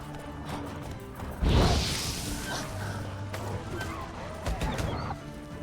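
Roach the horse in The Witcher 3 gives a whinny amid a brief thud and hoof clatter, set against a busy game soundscape with scattered impacts.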